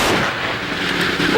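Loud rolling blast of rifle fire from a 21-gun salute at a police funeral for a fallen SAF trooper, a single dense burst with a long echoing outdoor decay.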